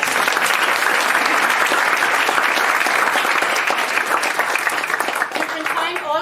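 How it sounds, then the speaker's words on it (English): Audience applause at a Circular City Week opening ceremony in 2022, a loud, steady roar of many hands clapping that holds for several seconds before thinning slightly, with a voice emerging faintly near the end. "give a warm applause to the best and most hard-working team in world history"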